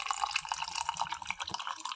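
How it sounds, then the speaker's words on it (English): Coconut water pours in a soft, steady trickle into hot sauce in a home kitchen, quiet and close with no voices. "To this, I'm gonna add some coconut water,"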